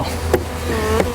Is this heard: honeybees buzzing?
yes